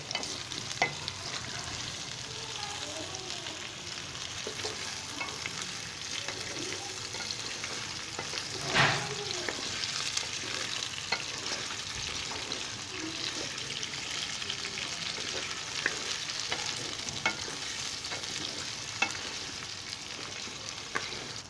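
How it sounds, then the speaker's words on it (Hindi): Steady sizzling and crackling of potatoes frying in hot ghee, with occasional stirring scrapes, fairly close and even throughout. "अब इसमें मैं आलूओं को शामिल कर लेता हूँ और आलू को मैं इसमें अच्छे से भून लूँगा।"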